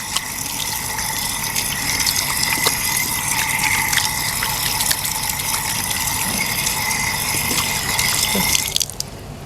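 Running water from a tap while rinsing, a steady close splashing flow with small drips and clinks, stopping abruptly just before the end; no one speaks.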